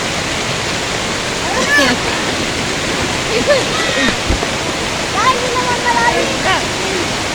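Typhoon floodwater rushes past a house in a continuous loud roar, while faint voices and calls come through the steady torrent.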